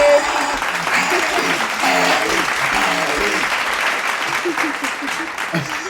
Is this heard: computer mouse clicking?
no